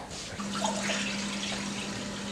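Tap water runs steadily into a bowl being filled for an orange floating experiment, a continuous close hiss and splash with a faint steady hum underneath and no talking.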